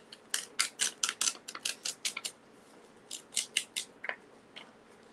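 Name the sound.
peeling off a rub-on transfer sheet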